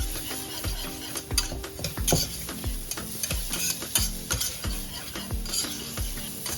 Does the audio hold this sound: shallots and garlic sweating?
yes